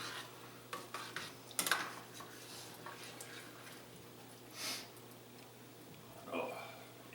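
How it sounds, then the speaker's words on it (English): Guinness stew ingredients are mixed in a pot, giving faint, scattered scrapes and clinks of a utensil against the pot at a low, quiet level. "I need a strong arm to mix this all together."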